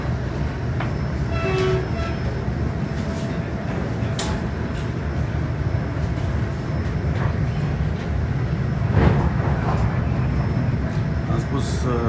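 A new electric commuter train runs on the line between Gara de Nord and Gara Buftea near Bucharest, a steady rumble of railcars with horn-like tones and brief squeals, with people talking over it throughout.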